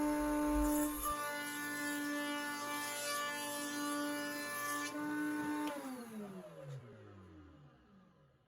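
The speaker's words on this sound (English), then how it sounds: "I'm putting a round over on both sides just so it has a nice smooth, to the touch round over" A router rounds over the edges of a wooden crosscut sled, its steady high whine holding for several seconds before the motor winds down and fades out.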